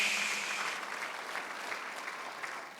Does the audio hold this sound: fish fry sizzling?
no